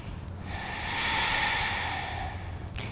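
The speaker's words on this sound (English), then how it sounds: "Big breaths." A single slow, deep breath during a power yoga pose, a soft breathy rush that swells and fades over a few seconds, close and quiet with no talking.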